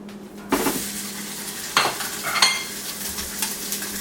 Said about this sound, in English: Now it's time to add our mild Italian sausage into our preheated cast iron skillet.